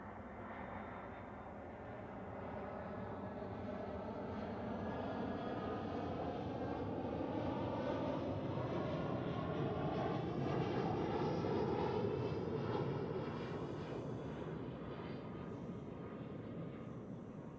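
An EasyJet airliner arriving from Pristina lands on runway 14 at Zurich Airport, its steady jet roar swelling slowly and then easing off at a moderate distance, heard alone with no voices.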